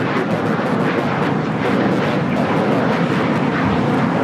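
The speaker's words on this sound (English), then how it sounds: "That is the Gulfstream 4." A Gulfstream IV business jet taking off at LAX produces a loud, continuous broadband jet roar that holds steady throughout, with no speech over it.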